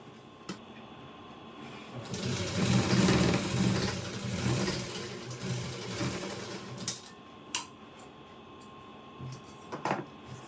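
A sewing machine stitches a narrow folded seam at the side opening of a long petticoat, running in a loud burst of rapid whirring for about five seconds, then stopping, with a few brief clicks and handling noises afterward.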